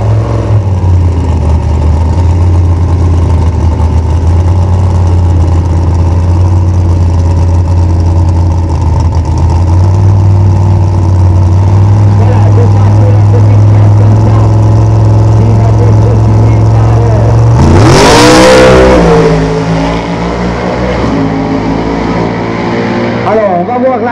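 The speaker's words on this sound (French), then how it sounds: "ça c'est un dragster qui date de 1950" A 1950 dragster engine at the Security Runs event in Satigny holds a steady deep loud drone, then near the end a sharp rev sweeps upward and falls back.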